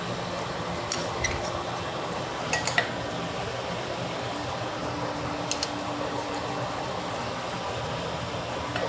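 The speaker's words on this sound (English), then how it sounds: "You can kind of mold them together with 2 spoons as well." Two metal spoons clink a few times against a pot while shaping cheddar dumpling dough in chicken broth, with faint scattered taps over a steady hum of fan-like background noise.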